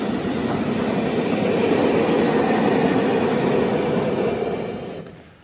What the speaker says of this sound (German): und die Bahn ist ja hinter unserem Haus